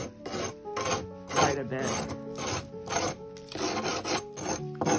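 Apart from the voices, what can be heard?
sanding stone smoothing cement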